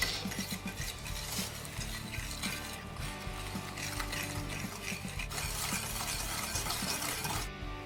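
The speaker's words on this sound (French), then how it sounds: "je prends mon fouet et je viens remuer." A whisk stirs yogurt and apple cake batter in a bowl, scraping and clinking in a steady, close rhythm that continues throughout without any voices.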